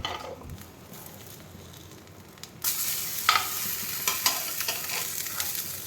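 Chila batter hits a hot pan and a bright crackling sizzle rises abruptly, steady and close, with a few scraping stir noises over it and no talk.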